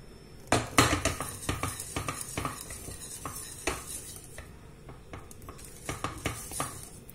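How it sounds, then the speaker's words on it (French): A whisk stirs thickening orange cream in a saucepan, making a steady run of close metallic taps and scrapes against the pan with no talking. "je vais mélanger avec mon fouet jusqu'à ce que ça épaississe"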